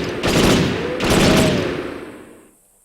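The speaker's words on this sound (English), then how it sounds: "It's a powerful submachine gun with a large ammo capacity and a fast rate of fire" A powerful, inaccurate submachine gun with a fast rate of fire in Perfect Dark Zero's jungle level, heard as a loud sustained rapid burst with a second surge, then tailing off to quiet.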